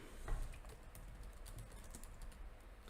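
Quick, steady keystrokes on a computer keyboard, close and fairly quiet, one slightly louder tap early on; no one speaks.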